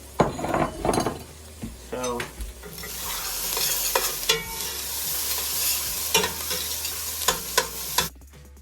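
Browned meat and its juices going back into a chili pot, loud continuous sizzling with vigorous spoon stirring and scraping, a few metallic clinks, close and without talk.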